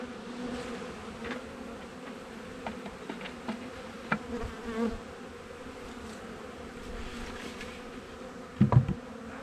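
Honeybee swarm clustered near the hive in the morning, giving a faint, steady buzzing hum with a few louder bees passing close, the nearest just before the end.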